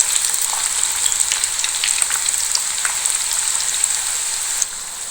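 Layered khaja pastries deep-frying in hot oil, giving a steady close crackle and fizz with tiny popping bursts throughout that softens slightly just before the end.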